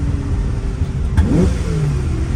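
A 1968 Ferrari 365 GT 2+2 with a freshly rebuilt engine accelerates on the road, heard loud and close from inside as the engine note climbs sharply after a gear change, with no voices.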